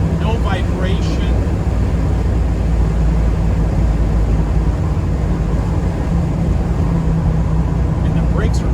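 A 1967 Camaro rounds a turn at about 50 mph, its engine and road noise forming a steady, loud, continuous rumble from start to finish.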